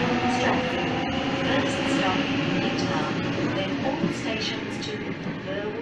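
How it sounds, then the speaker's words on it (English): A Waratah electric suburban train departs platform 2 at Macdonaldtown station in Sydney, a steady loud rolling rumble and hum that fills the scene throughout, with faint higher squeals drifting over it. "Departing platform number 2 for our home bush service, we have Waratah set"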